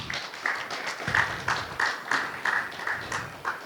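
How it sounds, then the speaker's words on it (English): Audience at a leadership and digital strategy panel event gives a short round of applause, a steady patter of clapping close by, fairly light and brief. "A warm applause to the team here"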